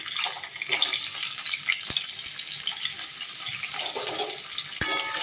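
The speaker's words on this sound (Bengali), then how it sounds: "আলুগুলো একটু নুন দিয়ে ভেজে নেব" Potatoes frying in oil in a pan with nigella seeds, a steady broadband sizzle running throughout at close range, with a couple of sharp clicks and a brief louder burst near the end, no talking.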